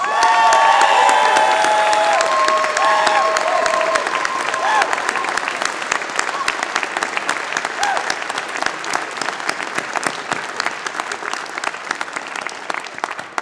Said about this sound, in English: Please join me now in acknowledging them with a round of applause.